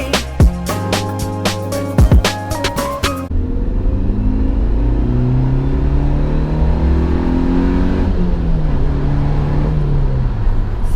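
A 2019 Suzuki Jimny with a 1.5-litre naturally aspirated 101 hp engine accelerates hard, its engine note climbing in pitch through several gear changes after a short stretch of music at the start.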